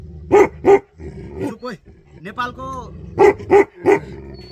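A large Bhote dog in Nepal gives loud, deep barks: two at the start and three near the end, with quieter vocal sounds in between.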